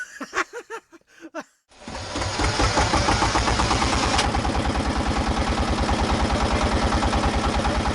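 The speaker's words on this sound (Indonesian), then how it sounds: "Mesin kapal dihidupkan, kapal pun dipacu dan melaju menuju spot penyelaman" A boat engine cranks and catches, then settles into a loud, steady, rhythmic chugging run close by, on a trip toward a dive spot near Padamarang island, Kolaka.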